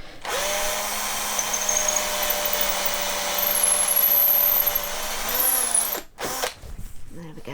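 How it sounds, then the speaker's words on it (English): A power drill whines steadily at close range for about six seconds while boring a hole in a wooden board, then winds down and stops, followed by brief handling clatter. "I'm just about to drill my very last hole on the boards"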